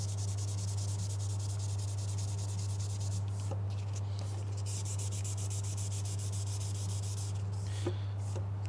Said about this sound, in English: Sanding perpendicular to the grain isn't ideal, but sometimes it's just easier to get all the stuff out